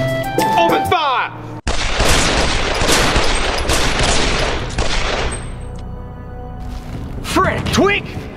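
A loud, sustained burst of rapid gunfire erupts right after a shouted order in an animated scene, roaring for several seconds before tailing off into shouted, voiced reactions.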